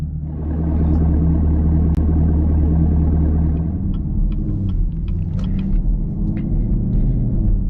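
A Chevrolet Camaro SS V8 rumbles steadily while cruising slowly, a deep continuous low drone filling the cabin with light clicks and taps over it in the later seconds.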